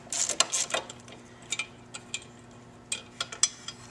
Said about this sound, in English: This bolt right here in the top that holds the front bracket on, you have to take that bolt out.